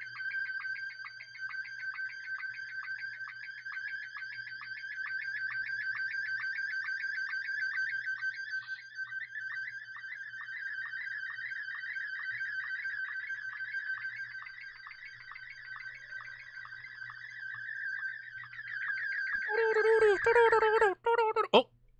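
A timeout timer alarm beeps in a rapid, continuous electronic pulse for a long stretch, steady and fairly loud, ending in a burst of louder tones.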